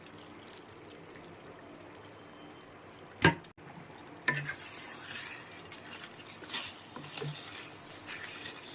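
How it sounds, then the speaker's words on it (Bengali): Water is poured into a Bengali-style chicken curry with cashew and poppy seeds in a pan, a soft quiet rush following a sharp clink, with faint stirring and utensil noises around it. "সামান্য পরিমাণে জল দিয়ে দেবো।"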